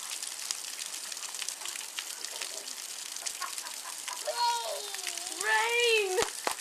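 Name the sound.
rain storm in Colorado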